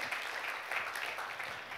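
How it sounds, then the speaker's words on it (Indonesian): Church congregation at an online worship service applauds briefly, a soft, steady patter of many hands clapping from a distance. "Yang mau beri tepuk tangan yuk buat Tuhan kita Yesus Kristus"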